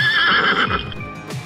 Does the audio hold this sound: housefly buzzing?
no